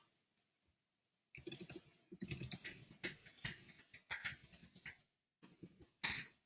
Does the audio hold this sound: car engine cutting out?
no